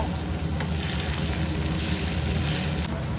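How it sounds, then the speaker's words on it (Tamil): Onions sautéing in a pan for a curry, a steady broadband sizzle that holds evenly and close throughout with no talk over it. "வெங்காயம் வந்து நல்லா வதங்க, நம்ம வந்து குழம்புக்கு வதக்கிடலாம்."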